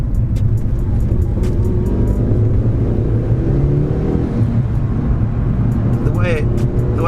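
A Mitsubishi EVO VIII with 276 brake horsepower pulls hard from inside the cabin, a loud continuous engine drone rising steadily in pitch, with some clicks and rattles over it and no speech.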